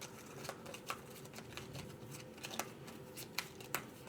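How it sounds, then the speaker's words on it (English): Playing cards shuffled by hand during a solo tabletop game, a steady soft riffling and shuffling texture with sharper card snaps every half second or so, close up and quiet, with no voices. "Okay, and we'll shuffle these a little bit."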